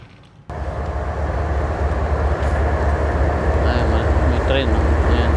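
A train passes close by: a loud, continuous rumbling roar kicks in abruptly after a brief quiet moment and holds steady to the end.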